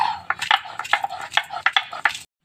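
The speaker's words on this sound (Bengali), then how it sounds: "আমি বেটে নিচ্ছি" Garlic is ground into paste in a Bengali kitchen, heard as a rhythmic run of scraping, knocking strokes, roughly four or five per second, close and fairly loud until it stops abruptly.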